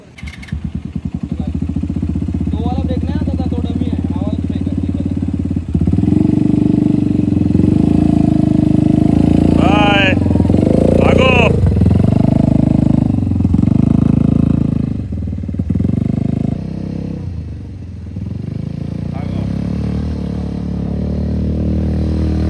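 Motorcycle engine droning steadily through a beach-area bike ride, loud and continuous with surges in revving, a brief louder stretch in the middle, and faint voices in the background.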